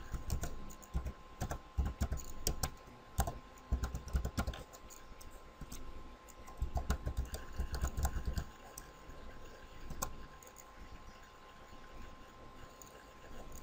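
Rapid typing on a computer keyboard, entering a system username and password: dense bursts of key clicks in uneven runs with brief pauses, close and fairly quiet.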